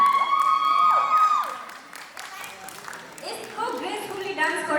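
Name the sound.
loud applause at a dance competition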